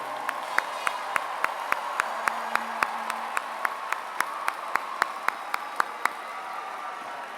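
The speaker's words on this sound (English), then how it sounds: "So let's give them a round of applause," Sparse, scattered hand claps from a graduation audience at a university spring commencement, a slow irregular patter of individual claps that never builds into full applause.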